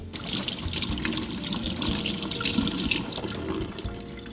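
Shrimp are rinsed under a running kitchen tap, with steady close splashing and trickling water throughout and no speech.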